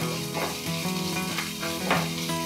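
Chopped onion frying in a pan, a steady close sizzle with bright crackling bursts running through the whole stretch, no voices.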